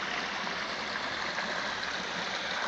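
A small creek behind a house flows steadily, a continuous broadband rush of running water with gentle gurgles, close and even in level throughout with no voices.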